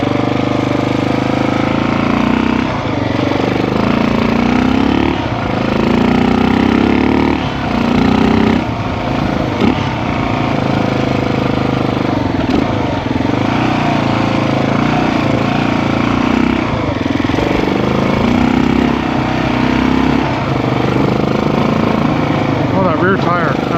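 Old Yamaha TT350 motorcycle engine running while ridden, a loud close continuous thumping drone that rises and falls with throttle, with someone talking over it at times.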